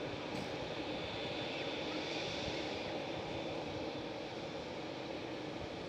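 A TUI Boeing 787 Dreamliner jet at Schiphol airport gives off a steady, broad roar that fills the whole moment at even loudness, with no voices over it.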